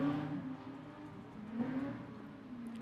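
Production sedan race cars at a night race, engines droning and rising in pitch as they pass, fairly faint and distant under a steady hum.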